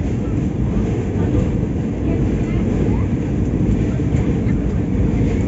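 The Dhauli Express crosses the Mahanadi river bridge just out of Cuttack station, producing a loud, steady, low rumble of wheels and carriages that rolls on without pause throughout.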